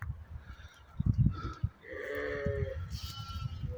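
Young lambs of a yellowish breed bleat close by on a farm for sale in Kara-Balta, Kyrgyzstan: a few short bleats followed by one longer drawn-out cry, with faint handling noise and no speech.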